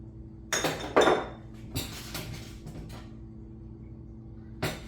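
Big metal cooking pot set on a stove for a sausage and potato medley, producing a few distinct clanks and clunks spaced over several seconds, close and fairly loud, with quieter handling between.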